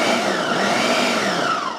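A blender pulses salsa ingredients in a loud, steady motor whir that runs the whole time without a break.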